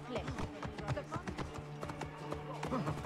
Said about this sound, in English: Here comes a single woman on a horse.